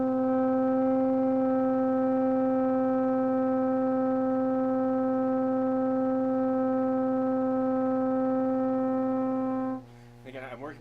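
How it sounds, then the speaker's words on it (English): A steady sustained tone held against a low drone, both pure and unwavering for nearly ten seconds, loud and close, before the tone cuts off and a brief rustle follows. "we're just gonna start by playing some tones against this drone"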